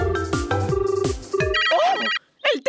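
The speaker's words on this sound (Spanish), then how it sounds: "¡Oh, el teléfono!" Telephone ringing in an animated children's show, an electronic ringtone repeating in quick bursts with bouncy accompanying music, followed by short cartoon sound effects.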